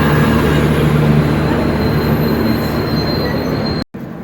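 The Shalimar–Puri Dhauli Superfast Express pulls into Belda station in Paschim Medinipur with steady loud rumble and sustained wheel squeal, ending in a brief cutout.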